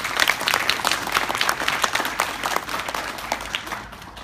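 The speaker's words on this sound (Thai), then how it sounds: "ถ้ายังไงขอเสียงปรบมือให้พ่อผมที่อยู่ด้านในครับ" An indoor audience applauds for a speaker's father with dense, sustained clapping that starts strong and tapers off over a few seconds, close and loud, with no voices over it.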